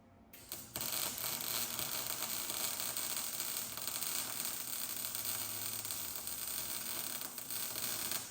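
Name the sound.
welding metal pieces into a truck bed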